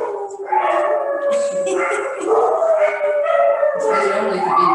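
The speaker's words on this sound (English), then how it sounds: "Oh gosh, there's dogs." Dogs bark and howl in a mountain setting, a loud, near chorus of wavering howls, yips and whines that carries on throughout with no pause.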